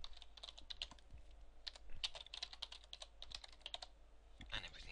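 Typing on a computer keyboard in Fantasy Grounds, with rapid, uneven bursts of close key clicks over a low hum.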